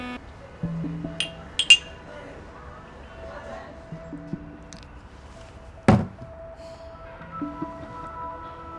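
Ceramic coffee cups clink together in a toast among coworkers: a few light clinks, then one sharp, louder clink, with voices talking quietly around them.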